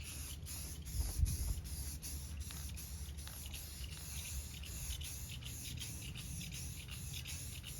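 Aerosol spray can laying a wet coat of paint on a Harley fuel tank outdoors in the sun, a close, soft continuous hiss with rapid pulsing passes and faint rattles, no talking.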